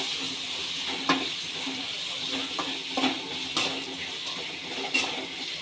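Curry leaves sizzling in hot oil for a fish curry, a steady close frying hiss with occasional sharp pops and crackles, no speech.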